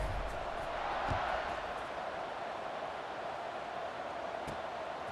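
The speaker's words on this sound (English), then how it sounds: "this crowd now ready to get behind them" A stadium crowd in the College Football 26 video game makes a steady, distant roar as it gets ready for a kickoff after a scoring drive. The sound stays even throughout, at fairly low volume, with no clear talk.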